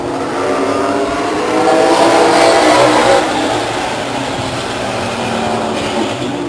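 A late model stock car's engine at Stockton 99 Speedway in 2000 roars loud and close, swelling to a peak as it revs past, then settling into a sustained drone.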